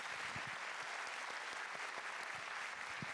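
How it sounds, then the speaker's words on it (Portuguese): A comedy talk-show audience gives continuous, dense applause, a steady wash of many hands clapping at even level with no voices. "uma salva de palmas pra ele."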